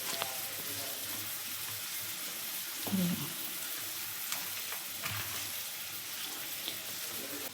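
An onion-tomato mixture sautés in a pan in a Konkan village kitchen, giving a steady, close sizzle with a few stirring scrapes and knocks. Faint talk sits in the background.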